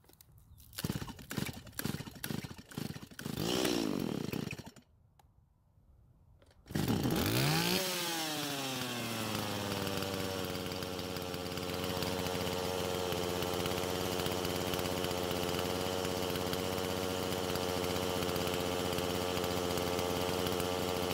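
A Stihl MS170 chainsaw after a carburetor repair: several short pulls and sputters, then the engine catches and runs steadily, loud and close, with no talk over it.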